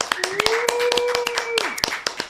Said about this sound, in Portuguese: Recebam com um forte aplauso Tassos Licurgo